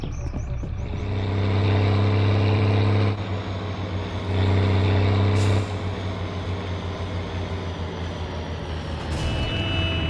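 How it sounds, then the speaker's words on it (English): A vehicle horn blares in the game My Summer Car, two long steady honks of about a second and a half each with a short gap between, loud over an idling engine rumble. "Don't you honk at me, you."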